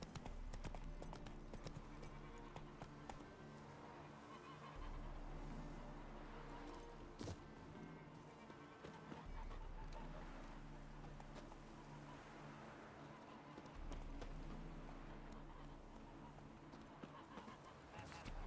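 Horse galloping in the video game The Witcher 3, a steady rapid clip-clop of hooves running continuously throughout, faint and even, with no talk over it.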